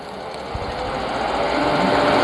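Sandpaper worked against a spinning pen blank on a lathe, giving a steady broadband hiss and whir that slowly grows louder over about two seconds, with no talking.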